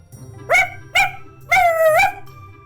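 A small white dog barks three times in quick succession, the last bark longer and drawn out, close and clear over a low background hum.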